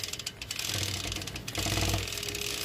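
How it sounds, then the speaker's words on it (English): A bench grinder working over a mountain bike chain guard that had been rubbing knobby tires, giving a steady mechanical whir with a rough, ratcheting texture and a brief surge partway through, close and alone. "So I'm going to take it off and run it through the bench grinder real quick."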